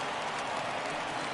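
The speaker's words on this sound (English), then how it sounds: "So he receives a nice ovation from this home crowd" Home crowd at Yankee Stadium applauding a departing Yankees pitcher during a World Series game against the Padres, a steady, dense wash of clapping and cheering heard from a distance, fairly faint and unbroken.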